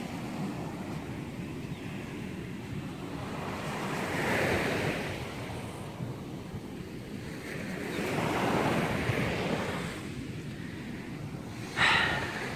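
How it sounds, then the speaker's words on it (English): Ocean waves roll onto a beach in slow repeated surges under a constant wind-buffeted hiss, each swell rising and fading at a moderate distance. "Show you the beautiful beach"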